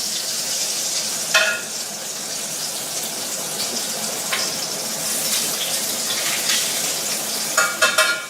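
Pork chops sizzling on a hot grill while being marked, a steady close crackling hiss with a few brighter spatter bursts, no talking.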